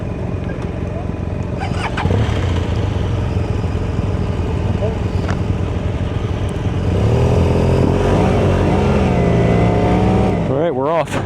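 Motorcycles pull away on a twisty Virginia mountain road, engines droning steadily with a rising rev near the end, riders talking over the rumble.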